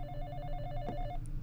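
An in-game telephone rings in the horror game Exanimum: The Silent Call, a steady electronic ringing tone with a low droning hum beneath it, moderately loud and continuous across the moment.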